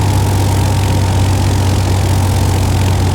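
A light aircraft engine throttled back to about 1500 RPM on the approach to landing, giving a steady, loud, droning hum with a low throb and constant wind-like roar, heard continuously from inside the cockpit through a headset.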